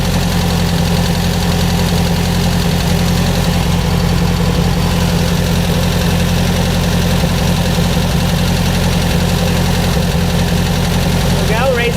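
A Beck 550 Spyder replica engine idles steadily at a slightly high speed, its close, even low rumble running unbroken throughout with faint mechanical ticking over it.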